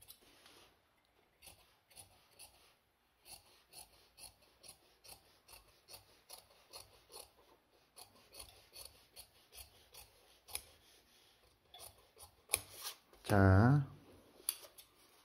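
Scissors snip through shirt-dress fabric in a series of short, close cuts. Someone speaks intermittently over them, and a louder rustle of handled cloth follows near the end.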